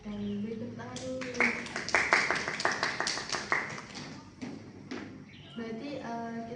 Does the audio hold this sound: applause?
yes